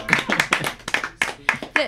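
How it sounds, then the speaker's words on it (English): Sparse handclapping from a small studio audience greeting a guest, a few distinct claps in irregular bursts close by, with voices mixed in. "Let's give him a round of applause."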